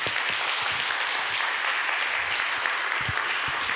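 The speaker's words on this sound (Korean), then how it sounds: "우리 인사하실 때 큰 박수 주시기 바랍니다." Lively applause from a church congregation, dense clapping filling the space, steady and fairly loud with no talking over it.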